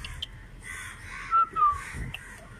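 Crows cawing overhead outdoors, a few harsh caws rising out of hazy ambient noise, moderately loud and with no voices.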